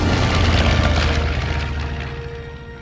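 An airplane in flight roars loudly with a broad, rumbling engine drone that slowly fades as it passes, with no voices over it.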